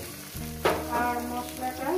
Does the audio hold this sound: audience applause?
no